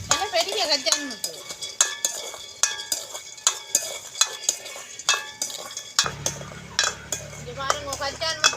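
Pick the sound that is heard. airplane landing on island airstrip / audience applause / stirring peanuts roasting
stirring peanuts roasting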